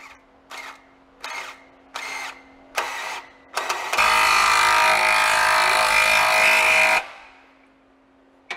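A power impact tool drives a bolt into the thick metal frame of a Jeep JL Wrangler, with several short loud bursts followed by a sustained three-second run, close and loud with no talking.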